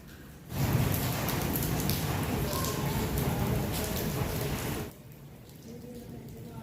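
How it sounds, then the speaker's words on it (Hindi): Steady rain falls outdoors as a dense, even hiss that swells in suddenly, holds for about four seconds, then drops away to a quieter background. "शुक्र अल्हम्दुलिल्लाह कि बारिश हुई है"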